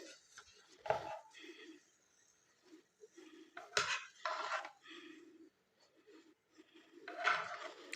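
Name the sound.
sandwiches being taken out of the pan into a dish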